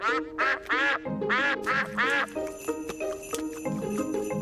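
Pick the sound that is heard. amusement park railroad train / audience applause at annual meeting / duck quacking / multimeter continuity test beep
duck quacking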